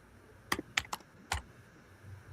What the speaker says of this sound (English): I hear his ass typing.